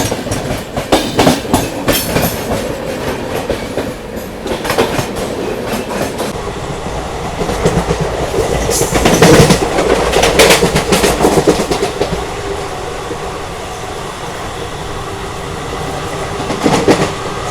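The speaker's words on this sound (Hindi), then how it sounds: "अभी अपनी ट्रेन स्किप कर रही है डबरा रेलवे स्टेशन।" A passenger train, the Shaan-e-Bhopal Express, running along tracks at speed through Dabra station at night, with rumbling, rhythmic clatter and bursts of louder rattling, heard close from inside.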